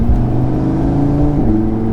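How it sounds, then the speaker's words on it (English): An Audi RS3 with a catless exhaust drones loudly from inside the cabin, a raw engine tone under load with a slight pitch shift midway and no voices. "you can hear so much of the raw engine sound"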